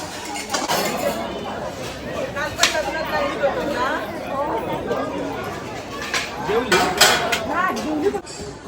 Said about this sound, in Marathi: आता सध्या या धुणी भांडीचं काम चालू आहे